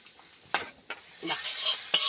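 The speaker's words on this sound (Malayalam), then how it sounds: "നമ്മൾ ഈ ചട്ടിക്ക് കുറച്ച് കറി അങ്ങോട്ട് ഒഴിച്ചെടുക്കുക" A short burst of sizzling with a few stirring scrapes as sambar curry is poured into hot tempering oil with asafoetida in a pan.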